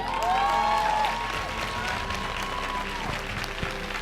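An audience claps steadily at a motivational speech event, a dense wash of applause that stays loud throughout with faint tonal ringing underneath.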